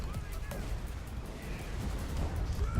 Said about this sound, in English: Doom Divers are firing across.